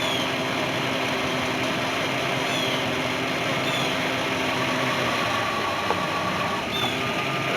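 An old Chevy C30 squarebody pickup truck engine idles in reverse with a low, steady rumble and faint mechanical whine, holding constant with a brief clunk near the end.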